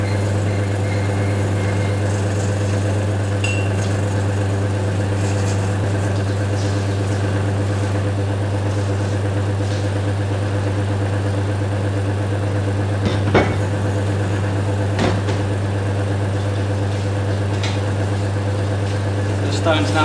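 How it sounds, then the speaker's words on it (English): A 20 to 40 drum sander pre-polishing an agate cabochon runs as a steady motor drone with a strong low hum throughout, with occasional brief scrapes and knocks as the stone touches the drum. "This is a 20 to 40 drum sander."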